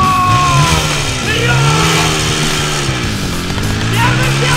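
A motorcycle engine runs steadily at close range, its pitch rising and falling with revs as people talk over it.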